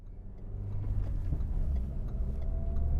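Renault Megane RS 265 engine pulling hard in second gear on a windy mountain road, a rising rumble building in loudness over a few seconds.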